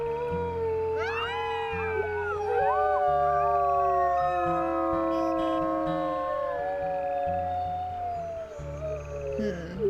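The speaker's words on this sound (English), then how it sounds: "I'm just gonna do a howl." A wolf howl from the video game Accurate Ironwolf: a long, wavering, rising-then-falling tonal wail with overlapping voices, over a low steady background hum that pulses in blocks.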